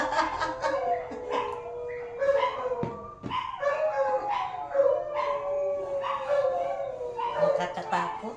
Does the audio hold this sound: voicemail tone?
no